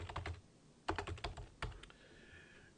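Fingers type on a computer keyboard, sending quick close clusters of soft key clicks in short bursts with gaps between, no talking.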